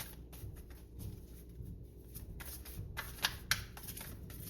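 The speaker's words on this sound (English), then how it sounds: "I'm not the best shuffler, but I do try." Tarot-style playing cards being shuffled by hand, a soft continuous riffling patter with a couple of sharper snaps near the end, close and quiet under a low background hum.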